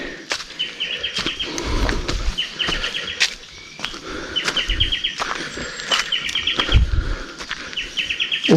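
Birds and crows call outdoors in Laos in repeated short chirping trills, several bursts in a row, fairly near, with scattered rustles and background ambience.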